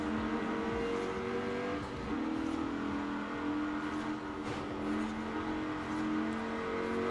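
Rover SD1 engine revving hard as the car launches off the line in Forza Horizon 4, a loud, steady engine drone with rising tonal pitch and gear shifts, continuous and close.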